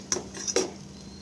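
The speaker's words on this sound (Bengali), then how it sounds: "তো দেখো, আমি ভালো করে সব কিছু একসাথে মিশিয়ে নিচ্ছি।" Eggplant and fish-oil curry is stirred in a pan, with two quick metallic clinks of a utensil against the pan over a low background hum.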